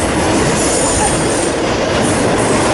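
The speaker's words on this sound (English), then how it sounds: "This train went by us." A freight train passing close by, with loud sustained rumble, rolling wheel noise and a faint squeal, heavy and continuous throughout.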